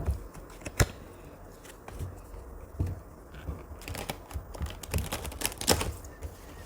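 Glossy laminated tarot deck being shuffled by hand, with dense bursts of crisp card riffles and snaps, close and fairly loud, repeating irregularly with no talking.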